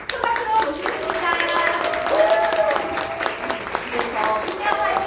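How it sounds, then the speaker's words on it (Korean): An indoor audience claps to welcome a guest speaker on stage, with steady applause alongside a prominent voice speaking over it. "강정민 리더님을 큰 박수로 모시겠습니다"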